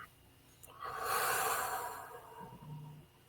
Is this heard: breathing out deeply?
yes